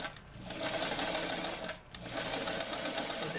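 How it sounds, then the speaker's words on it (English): A sewing machine stitches a doll apron from a Simplicity 2761 pattern for an 18-inch doll, running in steady continuous bursts with a brief pause partway through, close and fairly loud. "just go ahead and stitch on that same line that you did when you did the folding on the other end"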